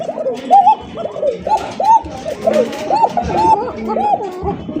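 Pet pigeons, fancy racer and giribaz breeds, cooing in repeated rolling calls close by, several overlapping coos in a rhythmic series, with some background noise and faint human sounds.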